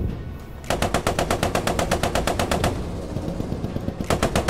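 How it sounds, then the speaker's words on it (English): Rapid machine gun bursts from a World War II tank battle in the game Post Scriptum, loud and close, a long sustained string of shots, a brief pause, then another burst. "You just keep driving, we'll keep shooting."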